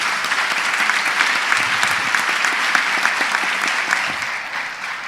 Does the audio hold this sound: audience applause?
yes